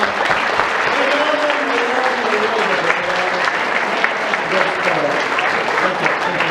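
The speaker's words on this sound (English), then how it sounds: "give them a big round of applause" An audience claps loudly for the players of a Newlywed Game event, the thick applause running throughout while voices talk over it.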